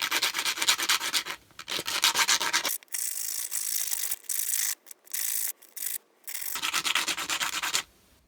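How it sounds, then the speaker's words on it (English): Sandpaper rounding the edges of a small replacement drive pin for a trolling motor propeller: close rhythmic rubbing strokes in bursts with short pauses between, and no talking. "take your sandpaper and round off the edges."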